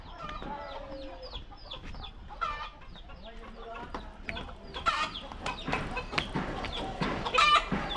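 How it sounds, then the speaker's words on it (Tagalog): Chickens cluck steadily in a farm yard, with several hens overlapping in close, busy bursts that grow louder toward the end. "May manok dito, pero manok lang to eh."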